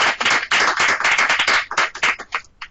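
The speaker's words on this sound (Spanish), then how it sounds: "La recibimos con un afectuoso saludo y aplauso de parte de los compañeros de la dirección." A small group of colleagues claps to welcome a speaker at a housing valuation forum, close, distinct handclaps with an uneven rhythm that trail off to a few last claps.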